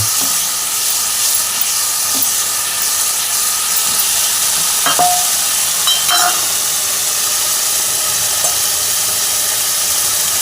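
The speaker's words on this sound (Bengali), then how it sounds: "এখানে চিংড়ি মাছটা আমি দিয়ে দিচ্ছি। দিয়ে এর সঙ্গে ভালো করে কষিয়ে নেব।" Prawns being sautéed in a cooked spice paste for a Bengali papaya ghonto, giving a loud, steady sizzling hiss throughout with a few scraping stirs near the middle and no talking.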